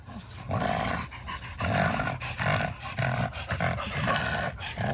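A pug pants and breathes heavily up close in rapid, steady rhythmic bursts through its nostrils, with loud snuffly huffs continuing throughout.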